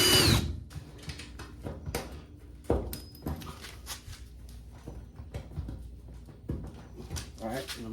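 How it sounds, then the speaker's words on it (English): A power drill boring holes in aluminum sheet for rivets while patching a jon boat, short bursts of drilling interrupted by sharp clicks and handling noises, close up with someone talking over parts of it. "make sure your piece of metal stays in the right place as you drill the other holes"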